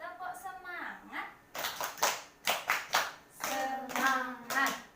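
A group claps the rhythmic "tepuk semangat" clap chant in bursts, with a voice chanting and talking between the sharp hand claps.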